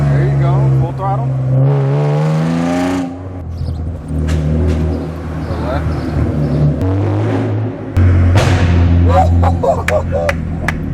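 Straight-piped BMW M car revving hard at full throttle, a loud raspy engine roar climbing through the gears with pops and a brief shift drop, people talking over it inside the cabin.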